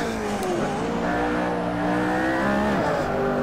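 A McLaren Senna with a 4-liter twin-turbo V8, driven at Spa in Assetto Corsa, revs hard through gear changes, its engine note climbing and dropping with brief shift dips.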